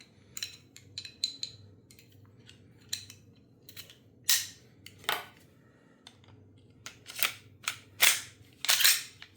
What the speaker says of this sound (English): So pull the trigger and slowly manipulate the slide.